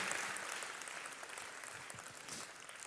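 A church congregation applauds for Jesus during an Indonesian sermon, a dense wash of clapping that is moderately loud and fades slightly as it goes on.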